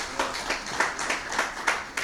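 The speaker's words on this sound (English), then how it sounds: "round of applause for him as well" Modest applause at a football cup media launch: a small group claps in uneven, distinct strikes at middle distance, fairly quiet, with no talk over it.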